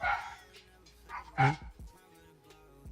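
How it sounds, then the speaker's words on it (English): Dogs at home let out a few short barks and yips, one louder bark standing out among fainter whimpery sounds, fairly close and with no other voices over them. "Sorry about my dogs."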